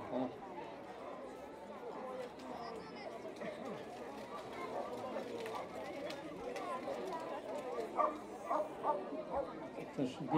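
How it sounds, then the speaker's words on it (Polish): Newborn puppies bark and yip in small, high bursts at an outdoor blessing of animals, the yelps growing more frequent toward the end under constant chatter from a crowd. "Szczeniaczki."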